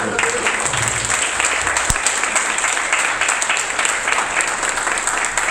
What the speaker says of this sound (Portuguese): Só quem crê aplaude o nome do Senhor.